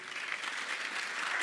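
Audience clapping at an opening ceremony, a steady wash of applause at moderate level that swells slightly at the very end, with no voices over it.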